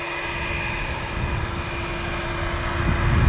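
An ATR turboprop airliner climbs and turns after takeoff at Dublin Airport, its engines a steady droning roar with a constant whine that swells slightly as it goes.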